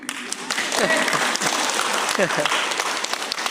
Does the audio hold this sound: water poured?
no